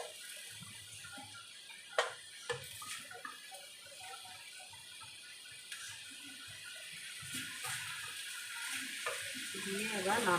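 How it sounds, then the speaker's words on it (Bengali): Vegetables stir-frying for vegetable fried rice in a pan give a steady, soft sizzle, with a few sharp clinks from stirring scattered through it. "দিয়ে এবার নাড়াচাড়া করবে, ফ্রাই করবে।"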